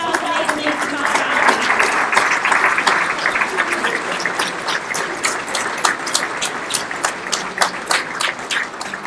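Audience applause at a scholar-athlete recognition awards ceremony, a sustained wash of many hands clapping that stays steady and fairly loud for several seconds, with a few sharper individual claps near the end.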